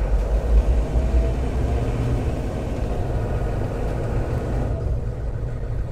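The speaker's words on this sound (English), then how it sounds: "Putting the truck in drive here, definitely sounds like a, you know, diesel truck." An AM General Hummer H1 diesel engine runs in drive with a steady low rumble and clattering idle, close and continuous, with no voices.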